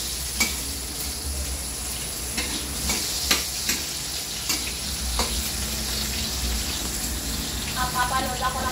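Tomatoes being stirred and mashed in a sizzling frying pan, with scattered scraping and tapping knocks over a continuous frying hiss and some talk.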